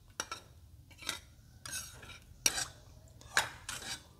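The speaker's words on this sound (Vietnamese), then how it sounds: "Khuấy lên cho cái phần đường này nó tan hết." A spoon stirring sugar and coconut into tapioca starch batter in a bowl, with about six distinct clinks and scrapes against the dish, close and fairly quiet.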